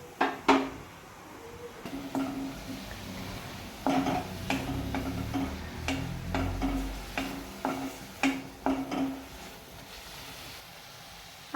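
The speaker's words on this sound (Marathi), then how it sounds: "आपण आता झाकण ठेवून ही भाजी दोन मिनिटं शिजू देऊयात" A lid clatters onto a pan of vegetables cooking on the stove, making sharp metallic clinks and taps scattered through the stretch over a low background hum and sizzle.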